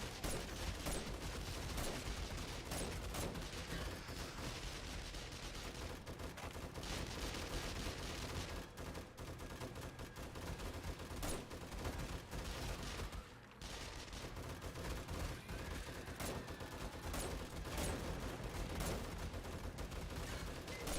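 Sustained, dense gunfire in 7 Days to Die, the A20 version on a Misfit Zombies server: continuous rattling volleys at steady loudness for about twenty seconds with a brief dip midway, no talk.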